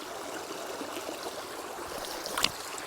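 Mountain water from the Dzembronia waterfall cascade in the Chornohora range rushes in a steady, broad wash throughout, with a brief brighter splash near the end.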